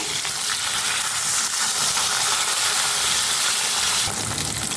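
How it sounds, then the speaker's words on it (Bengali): Steady, loud sizzling of katla fish pieces frying in hot oil over a medium gas flame, a dense crackle that continues throughout with no voices. "গ্যাসের ফ্লেমটাকে মিডিয়ামে রেখে মাছটাকে হালকা ভেজে নেব।"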